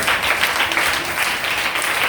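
A live audience breaks into steady, dense applause at a spiritual talk, the clapping loud and continuous for about two seconds with no voices over it.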